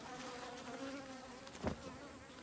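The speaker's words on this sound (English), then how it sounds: "Now with this bee here, learning that it's there, it'll start maybe doing the wiggle dance and telling the others" Africanized honeybees droning steadily at a feed trough, a continuous insect buzz with one brief louder swell as a bee passes close.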